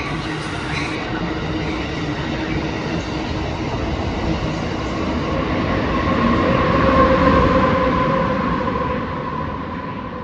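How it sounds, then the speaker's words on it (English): An Amtrak train rolls past at Secaucus station, a steady rumbling rush with rhythmic wheel clatter and faint squeals, swelling louder midway and then easing off. "hear another train"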